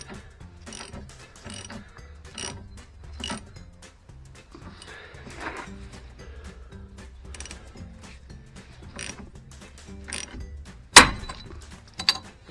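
A ratchet wrench tightens a bolt on a track rod end separator on a Vauxhall Corsa's front hub, giving repeated close clicking strokes, followed by a sharp loud crack as the joint breaks free near the end.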